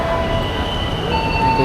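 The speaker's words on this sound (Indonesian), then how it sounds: "Ini kereta ini. Semarang, Mataram." Economy-class Mataram passenger train at an Indonesian railway station, a steady loud rumble of rolling stock with faint metallic tonal whine running throughout, no voices.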